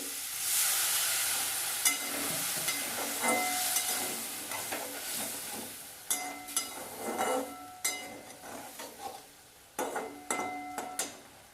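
Water goes into a sizzling prawn curry in a pan, a steady hissing sizzle that fades as scattered spoon clinks and scrapes of stirring follow, close and fairly quiet with no one talking.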